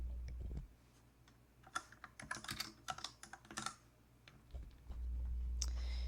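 Computer keyboard typing a short phrase into a coding project, a brief burst of crisp close clicks in the middle, with low hum before and after.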